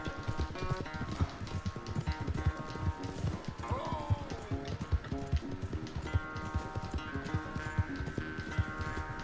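Horses galloping in a race in the video game Red Dead Redemption 2, rapid rhythmic hoofbeats pounding steadily up close, with game music tones and brief character voices underneath.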